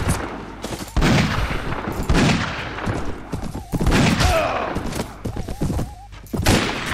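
Rifle gunfire in Mount & Blade: Warband with the 1860 Old America mod, several loud close shots and thumps in a chaotic exchange, with a player shouting over parts of it.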